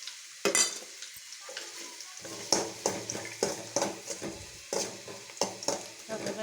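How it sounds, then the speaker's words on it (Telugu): Cashews and dried coconut fry in ghee in a pan for rava laddu, with a steady sizzle broken by repeated stirring scrapes and clinks at close range. "నెయ్యి వేసాను జీడిపప్పు కొబ్బరి వేయించుకుంటాను"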